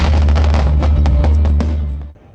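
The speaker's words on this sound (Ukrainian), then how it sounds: "Завершилося святкове дійство гучним феєрверком, який було видно далеко за межами самої площі." Loud fireworks closing a city day celebration on a public square in Dniprodzerzhynsk, with a dense, continuous barrage of crackles and sharp bursts over a heavy low rumble, fading out at the end.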